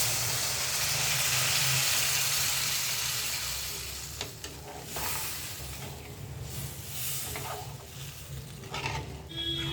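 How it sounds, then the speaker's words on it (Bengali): Masala spices fry in oil for an egg bora curry, giving a steady, close sizzling hiss that fades a little midway, with occasional stirring scrapes and no talk. "এই দেখুন মশলা মোটামুটি ভাজা হয়ে গেছে, তেলটা ছেড়ে এসছে মশলা থেকে"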